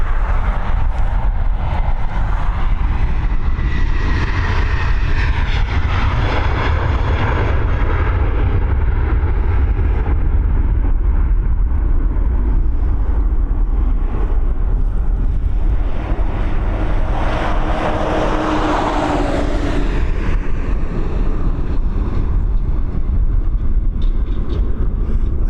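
An Airbus A330 takes off at Dublin Airport on a blustery, cold afternoon, a loud, steady jet roar mixed with heavy wind buffeting throughout, rising and shifting as the aircraft climbs away.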